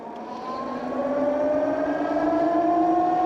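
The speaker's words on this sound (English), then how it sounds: "let's start out in throttle only. So here we go, throttle only" Mokwheel Obsidian ST e-bike pulling away from a dead stop on throttle alone, its motor whine rising steadily in pitch and loudness under a wash of wind noise.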